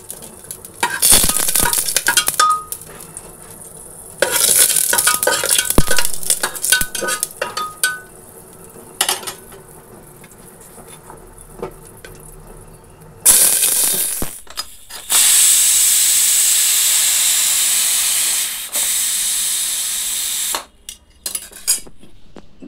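Five-spice tempering with dried red chilli and bay leaf in oil gives bursts of crackling and clattering stirring, then a loud, steady hiss of sizzling that lasts several seconds before fading.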